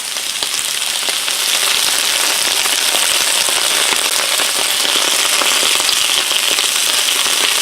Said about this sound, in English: you can take a little water and squirt it on there, and that'll help create some steam